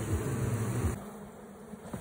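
A close, continuous buzz of bees humming around, loud at first and easing off partway through, with no talking.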